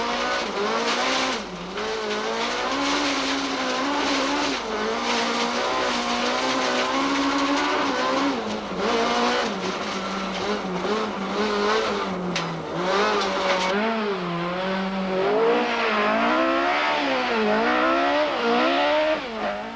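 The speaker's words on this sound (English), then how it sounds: "Let's watch as he fights the car through the tight sugarcane stages." A rally car at the 2004 Tour Natal is pushed hard through tight sugarcane stages. Its engine roars loudly and continuously, with revs rising and falling through gear changes and bursts of tire squeal. No one speaks.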